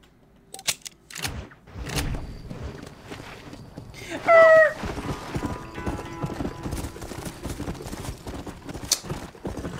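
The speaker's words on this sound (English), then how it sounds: "I'm always riding this horse too fast" Horse hoofbeats clip-clopping in the Red Dead Redemption video game, a quick irregular run of hooves with a brief whinny-like tone in the middle, fairly close and loud.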